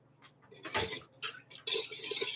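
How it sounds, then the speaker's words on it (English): Metal whisk scraping and clinking against a bowl while mixing sugar, a run of quick scratchy rattles in bursts, close and fairly faint, with no talking. "Now we get to use a whisk."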